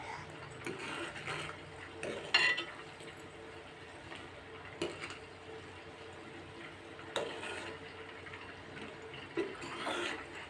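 Homemade ghee simmers in a pan as the milk solids separate, stirred continuously; soft bubbling and faint ticking scrapes of the spoon recur at intervals, quiet and close, with no voices.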